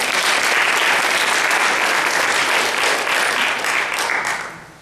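Loud, sustained audience applause at a creationism debate, a dense wash of clapping filling the room and fading out near the end.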